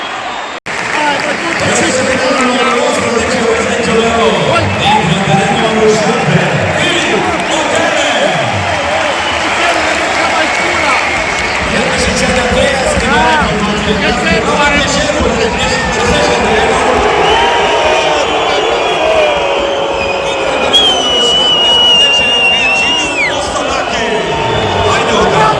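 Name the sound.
stadium crowd applauding at football match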